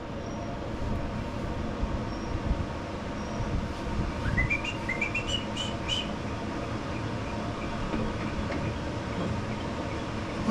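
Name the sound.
birds chirping outside in the morning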